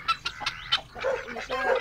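Hens cluck in short, quick bursts on a small family farm with chickens and other poultry. The clucking is soft and nearby, and a few calls overlap toward the end.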